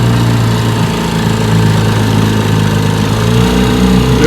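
A 1957 Johnson 7.5 HP AD-11 outboard motor idles steadily on a bayou test run, a close, loud, even putter with a low rhythmic drone that holds constant throughout and no talking.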